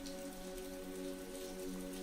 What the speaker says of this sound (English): The rain fell steadily on the cobblestone streets of Montmartre, creating a symphony of soft pitter-patter